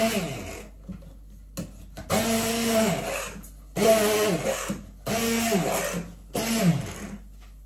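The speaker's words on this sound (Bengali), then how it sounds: "এখানে আছে কিছু কাঁচামরিচ দিয়ে এখন এই যে একটু ব্লেন্ডার করে ফেটিয়ে নেই" A kitchen blender chops green chillies in four loud, grinding bursts of about a second each, with short pauses of quiet between them.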